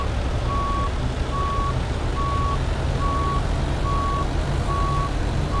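In American Truck Simulator, a Western Star truck reverses out of a parking spot to the steady rhythm of a backup alarm. Evenly spaced beeps repeat about seven times over a low, constant diesel idle.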